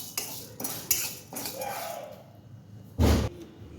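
Urad dal roasting in a pan, stirred with a metal spoon that scrapes and clinks against the pan in several sharp knocks, with no talk.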